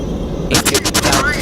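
Propeller or jet engine roar of a combat plane in the flight game Three-D Velocity, bursting in loud mid-clip as rhythmic pulsing surges after a quiet start, with gunfire-like bursts mixed in.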